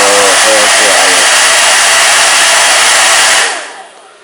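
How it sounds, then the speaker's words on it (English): A hair dryer runs on its intermediate setting with a loud, steady broadband whoosh and hum, a brief voice under it at the start, then it cuts off near the end, leaving quiet. "This is intermediate setting on the hair dryer."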